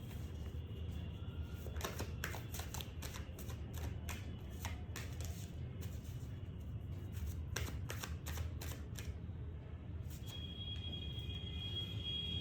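Tarot cards shuffled close up in a steady run of crisp, rapid riffling clicks and snaps, pausing briefly around the tenth second, over a constant low background rumble with no talking.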